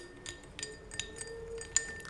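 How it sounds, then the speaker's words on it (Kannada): A spoon stirs a sugar-and-salt panaka drink in a glass, giving about half a dozen light, irregular clinks against the glass over a quiet background, one sharper knock near the end. "ಇದನ್ನು ಚೆನ್ನಾಗಿ ಮಿಕ್ಸ್ ಮಾಡ್ಕೋಬೇಕು"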